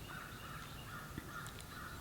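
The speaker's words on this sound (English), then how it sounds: "These crows are driving me insane." Several crows caw repeatedly from a roost in the Tennessee woods, harsh calls repeating steadily over a constant outdoor hiss.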